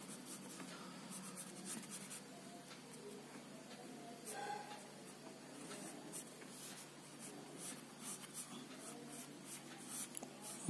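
A pencil drawing vehicle wheels on paper in an art class: steady, faint scratching and rubbing strokes that continue throughout, close and quiet, with soft bird cooing in the background.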